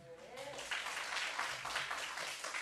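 A church congregation gives applause during an early-morning worship service, a steady broadband wash of clapping that runs throughout while a voice speaks over it.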